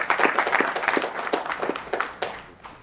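Scattered audience clapping after a documentary film Q&A, individual claps audible in a loose rhythm, moderately loud at first and thinning out toward the end.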